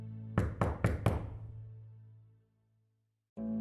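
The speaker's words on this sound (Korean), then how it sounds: "계단을 타고 아래층으로 내려가서 닥친 대로 문을 두드리며 도움을 청했다" Four quick, loud knocks strike a door in a Korean horror radio drama, close and heavy, then fade into a low hum and silence before another sound begins.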